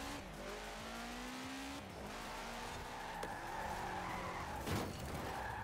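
Tires squeal as a car slides sideways through a drift in the racing game Forza Horizon 4, a steady engine drone beneath rising and falling skid tones, loud and continuous, with a brief sharper burst near the end.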